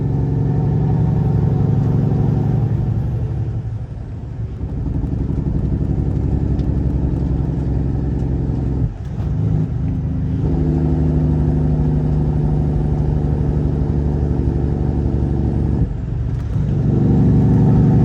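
Car merging onto highway 85, heard from inside as a steady loud engine and road drone with a couple of dips in level as it shifts and accelerates, no talk.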